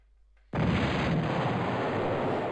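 Weapon fire in the Jane's Longbow helicopter combat game, a sudden loud burst that kicks in and holds as a dense, sustained roar of gunfire or rocket blast, with no voices.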